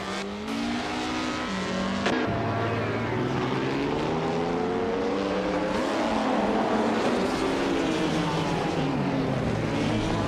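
A 1958 Porsche 718 RSK race car engine revving hard and close, its pitch rising and falling through gear changes, with a sharp shift early on and a steady loud howl throughout.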